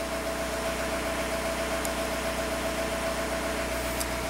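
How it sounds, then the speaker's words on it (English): A Volkswagen TDI diesel engine idles steadily, a constant low rumble with a faint whine, no voices. "you should he hear a definite change in tone to the engine"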